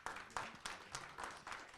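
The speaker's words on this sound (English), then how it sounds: "Let's give her a round of applause, please." Audience clapping for a female community association president at a Nigerian diaspora election gathering in Detroit, with faint, distant bursts of claps coming in a steady rhythm.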